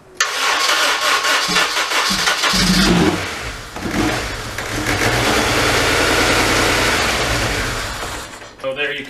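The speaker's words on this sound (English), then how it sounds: "It's going to crank a while and you'll hear it just shut off" A 2002 Honda Civic Si with a stretched timing chain cranks, catches and runs roughly, its engine loud and uneven with misfires before stumbling down to silence, while someone speaks over it.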